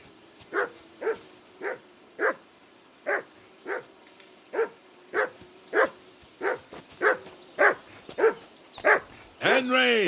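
A dog in Kingdom Come Deliverance 2 barks about fifteen times at a steady pace, loud and close, with the last few yelps rising into a whine.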